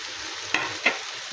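Cauliflower florets drop into a hot frying pan for an egg curry, giving a steady close sizzle with two brief louder bursts as the pieces hit the oil.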